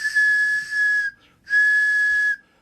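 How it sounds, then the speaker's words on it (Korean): A handmade whistle, shaped by its thickness, length and material, gives two long shrill steady blasts, each about a second, separated by a short pause, close and clear. "굵기와 길이, 재료에 따라 다양한 소리가 나는 호루라기 정말 신기하죠?"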